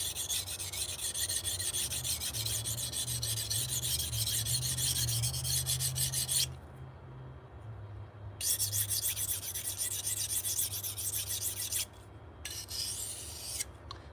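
Knife blade on a sharpening setup getting quick burr-removal passes, a steady close rasping scrape running nearly continuously with two brief pauses, alone without voices.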